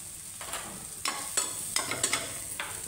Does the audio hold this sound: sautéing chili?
yes